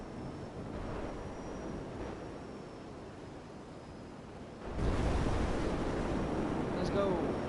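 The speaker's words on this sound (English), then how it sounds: "I have a seaplane called the Dodo" The Dodo seaplane from GTA flying over open water, a broad, steady engine drone mixed with wind and sea hiss that swells louder partway through and stays even, with a voice faintly underneath.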